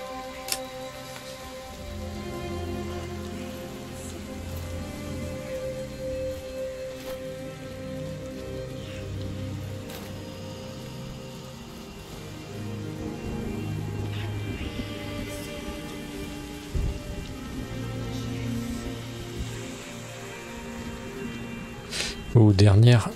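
Rain falling in the video game RiME, a steady hiss of drops under gentle game music, continuous throughout with a louder burst near the end.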